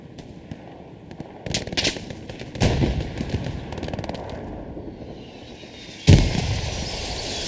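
Gunfire and artillery in the World War II shooter game Hell Let Loose: rapid rifle and machine-gun shots crackle continuously, with heavy booming blasts landing around the midpoint and near the end, loud and close.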